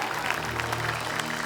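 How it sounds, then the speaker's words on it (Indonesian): Audience applause for a performer named Agar at a talent festival stage show: a steady, dense burst of clapping from a crowd, sustained and fairly loud throughout, with no clear talk over it. "Tepuk tangan sekali lagi untuk Agar"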